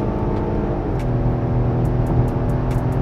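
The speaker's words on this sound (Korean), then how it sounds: "6기통 사운드 들어오죠." Genesis GV80 with its virtual six-cylinder engine sound switched on, a steady low engine drone heard from inside the cabin, with faint ticks and clicks over it and no talking.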